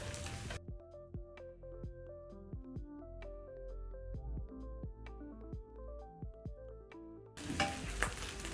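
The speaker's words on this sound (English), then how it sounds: "using medium-low flame, it's giving me time to break down the sausages and they are still cooking" Sausages frying in a pan over a medium-low flame for a sausage and vegetable sandwich: a brief sizzle at the start, then soft plucked music, then the crackling sizzle returns near the end.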